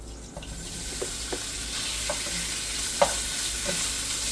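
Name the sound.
sausage frying in olive oil in a hot pan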